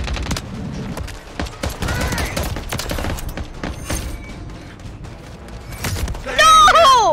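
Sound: gunfire in a video game

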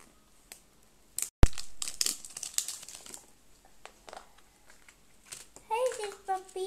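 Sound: plastic wrapping being removed from toy egg

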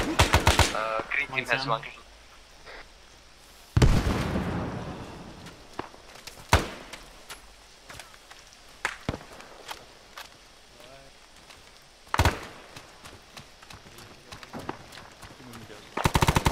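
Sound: gunfire in the video game ArmA 3

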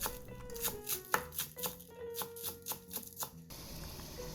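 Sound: chopping green onions with a knife

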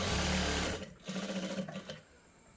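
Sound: sewing machine stitching a blouse front

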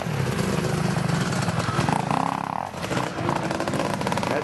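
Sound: Suzuki motorcycle engine racing

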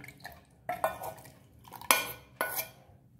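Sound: soaked dates being put into a mixer jar

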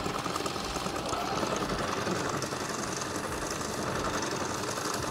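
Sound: sewing machine sewing fabric for liturgical vestments

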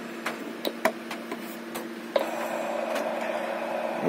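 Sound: STEP 2 transceiver's own noise without antenna

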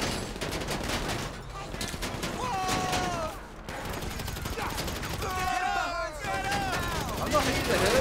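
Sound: gunfire in the video game GTA 5 Online

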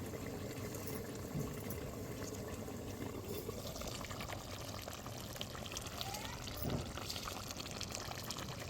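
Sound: fish curry boiling in a covered pot

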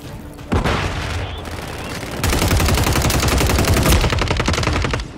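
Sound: gunfire in Call of Duty Modern Warfare III video game

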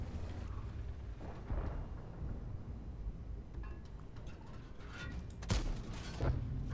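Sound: tank gun shots in the video game World of Tanks

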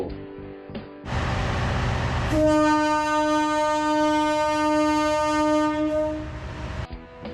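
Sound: KIHA 183 diesel train leaving Hua Lamphong station

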